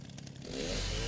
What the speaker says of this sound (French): donc il me fallait la tronçonneuse